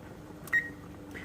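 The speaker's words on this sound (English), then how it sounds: "go to your timer and you're going to set it for 10 minutes." A kitchen timer being set while pasta cooks, a single short, thin electronic beep in the middle, with a faint second tone just after, over quiet room background.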